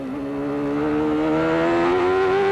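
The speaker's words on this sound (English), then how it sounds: "This is a 2nd gear corner. You can hear Rahal make 2 changes." A CART race car engine at the Elkhart Lake road course screams at high revs, its pitch rising smoothly as it accelerates past, loud and close with no talk over it.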